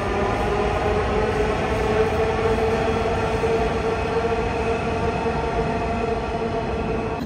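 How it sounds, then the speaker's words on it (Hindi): A Dhaka metro train running, heard from on board as a loud, steady rumble and hum of motion that continues without a break, with no voices over it. "ढाका मेट्रो"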